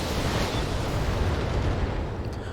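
BattleTech mech weapons firing together, a heavy roaring wash of explosive blasts and booms held loud and continuous, tapering slightly toward the end.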